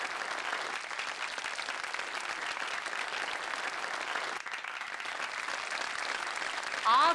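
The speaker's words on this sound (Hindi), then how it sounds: "तालियों से स्वागत कीजिए प्लीज।" An audience applauds a show stopper at a fashion show, dense even clapping throughout, fairly loud and sustained, with a brief whistle-like tone at the very end.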